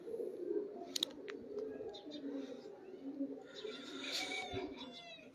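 Pigeons coo softly on a rooftop, low throaty calls repeating at a moderate distance, with a few chirps and background murmur of people talking.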